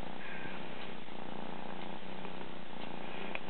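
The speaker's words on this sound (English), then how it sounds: "They're happy. They're purring." Maine Coon kittens purring in a low, steady rumble close by throughout, soft and even, with no voices.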